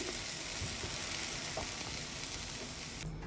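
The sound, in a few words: gongura leaves frying in oil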